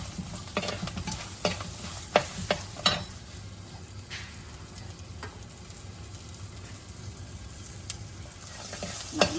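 Onion and garlic sautéing in coconut oil for a Kongu-style biriyani, a steady soft sizzle with scattered stirring clicks and scrapes of a spoon against the pan, close and moderate, with no talk over it.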